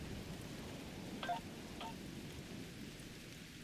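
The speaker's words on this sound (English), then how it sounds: "Wow, rain on Ryza." Rain falls on the planet Ryza in the video game Star Trek Online, a low steady rumble of downpour with a brief tonal chirp near the start.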